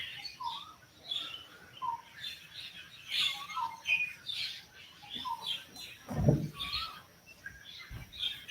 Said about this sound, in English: Rowdy birds.